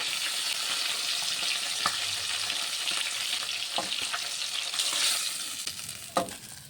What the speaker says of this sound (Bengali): মাছগুলো উল্টে দিয়েছি আমি একটু ভেজে নেব